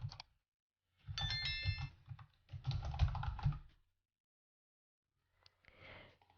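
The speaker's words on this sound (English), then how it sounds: "And vendor, I'm going to typing here my store name." Keys clacking on a computer keyboard as a shop name is typed, in three close bursts of quick, irregular taps with a pause before the last short run.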